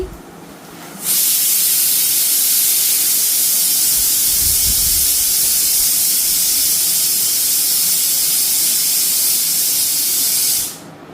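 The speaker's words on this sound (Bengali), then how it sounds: "আর এদিকে সিটি করতেছে, ডাল বসাই দিছি।" A pressure cooker cooking lentils (dal) gives one loud, steady steam whistle and hiss that holds for about ten seconds, then cuts off abruptly.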